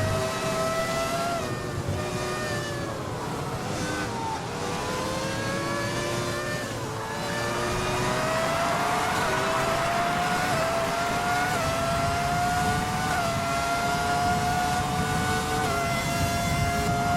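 Classic Formula 1 race cars racing in the rain in Japan: high-pitched engines wail and shift through rising and falling revs, with spray hiss and cars passing close, a dense, continuous roar with no talking.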